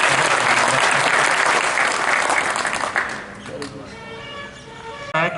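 Loud crowd applause at a Bharatiya Janata Party meeting welcoming new members, a dense wash of clapping for about three seconds that thins and fades, followed by quieter room noise and a brief final burst.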